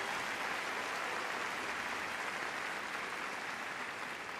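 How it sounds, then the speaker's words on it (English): An arena crowd at Crufts 2023 applauds and cheers for a West Midlands Police dog display with PC Gemma Bickley and police dog Aggie. The sound is a steady, fairly faint wash of clapping, with no talk over it. "give PC Gemma Bickley and PD Aggie a cheer"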